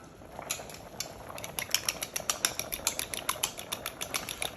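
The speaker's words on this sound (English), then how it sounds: "I pour in all the cornstarch with water, mixing it in." Cornstarch slurry is stirred into a simmering shrimp and lobster sauce, a utensil clicking against the pan in quick, steady strokes that grow denser and more rhythmic, close and fairly loud.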